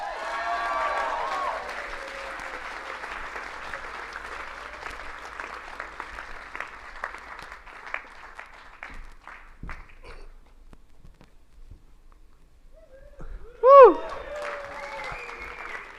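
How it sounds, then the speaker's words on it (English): Audience applause for a performer just welcomed onstage at a show, a broad steady clatter of clapping that thins out over several seconds, then gives way to near-silence with a brief sharp sound before faint activity returns. "Thank you for your applause."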